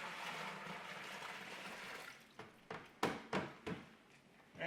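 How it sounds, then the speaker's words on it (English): Water rushes into a bucket as it is rinsed clean of iodine sanitizer while making homemade plum wine. A steady pour gives way to several sloshing splashes close by. "And we're just going to rinse this out because we don't want iodine in our wine."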